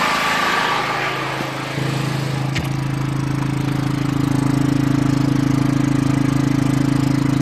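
A generator runs steadily in an allotment shed, its engine note a loud, constant hum that settles into a firmer drone after a brief dip, with no voices over it.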